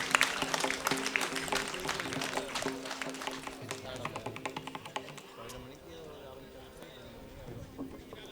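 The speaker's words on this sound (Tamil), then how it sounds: "பலத்த கைத்தட்டல் கொடுக்கலாம் ஆசிரியர்களுக்கெல்லாம்" Audience clapping at a Tamil cultural festival stage ceremony honouring teachers, a dense patter of many hands that builds briefly and then thins to scattered claps, with voices and crowd murmur underneath.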